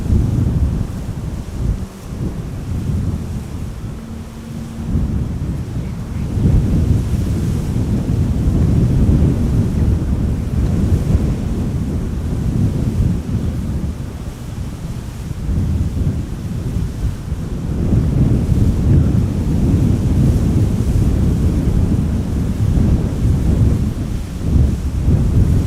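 Heavy wind buffets a microphone outdoors at an airport while spotters wait for a KLM Boeing 747 to arrive, making a loud, continuous low rumble that surges and eases, with no voices.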